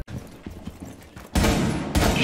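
Rainbow Six Siege gunfire: scattered distant shots give way to loud, dense bursts of rapid firing close by in the second half.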